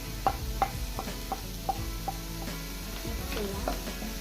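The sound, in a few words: mixing salt and masala into chicken pasta in a pan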